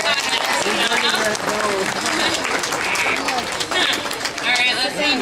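Audience applause at a reptile-and-bird show at Reptile Gardens in South Dakota, a dense, steady clapping that carries on for several seconds, with bird calls and coos mixed into the crowd noise.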